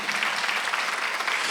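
A Korean church congregation at Sunday worship claps hands in a continuous, even burst of applause, bright and dense, with no speech over it.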